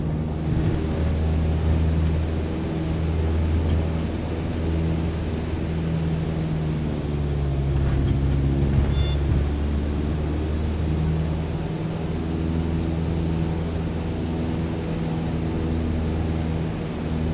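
A Cessna 152 engine in Microsoft Flight Simulator, throttled back to 2,300 RPM for cruise, hums as a steady, loud, low droning tone that continues evenly throughout, with no talk.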